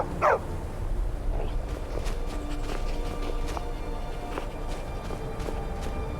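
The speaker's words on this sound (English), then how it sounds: "Stray dog." In Skyrim VR, a stray dog barks a few times near the player while walking footsteps tap steadily underneath, with faint game ambience behind.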